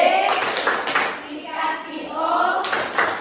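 A classroom group claps out a rhythmic 'tepuk wow' cheer, with many hands close and fairly loud and children's voices chanting along throughout.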